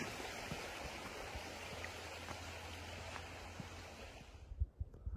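Creek water flowing past trees along a steep ridge, a steady faint rushing wash with light splashing, ending in a few louder close knocks.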